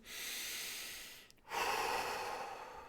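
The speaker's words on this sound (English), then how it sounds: "deep breath in, deep breath out" One slow, deep breath in and then out, soft and close, the exhale broader and louder after a brief pause, with no talking.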